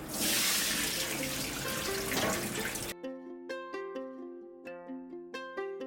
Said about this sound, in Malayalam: നന്നായി കഴുകിയാൽ മതി, ആ വെള്ളം ക്ലിയർ ആവണ വരെ